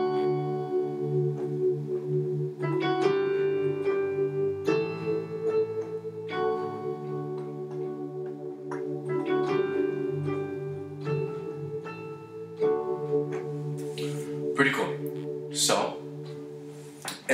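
A piano plays the intro of a song, chords struck in a steady rhythm and sustained, clear and close with no talking.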